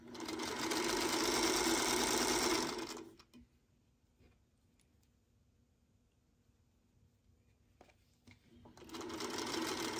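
A sewing machine stitches quilt block squares with backgrounds in two loud, close bursts, separated by a long quiet pause.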